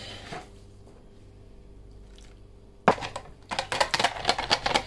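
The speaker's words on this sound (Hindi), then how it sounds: "इसको मिक्स करके थोड़ा थोड़ा पानी डाल के मैं इसका बैटर तैयार कर लूँगी।" Chicken bread roll batter of flour, black pepper, salt and water is stirred by hand, starting with a faint quiet stretch, then turning into loud, wet, squishy slapping strokes in an irregular rhythm.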